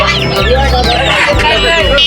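Dense, loud clucking and squawking of many chickens crowded together at Haluaghat market near the Meghalaya border, overlapping calls in a busy, noisy setting.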